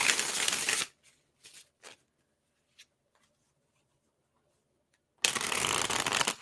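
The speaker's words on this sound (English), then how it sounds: "Again, as I say, I take forever with shuffling." Tarot cards are shuffled in loud, close riffling bursts at the start and end, with a few soft taps and card slides in the quiet stretch between.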